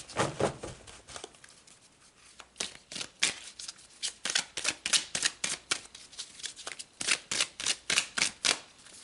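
Tarot cards are shuffled by hand in a quiet room as a string of crisp riffling and flicking bursts that come in quick rhythmic bunches. The sound is close and clear, with no voices.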